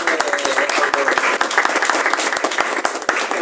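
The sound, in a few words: audience applause at book presentation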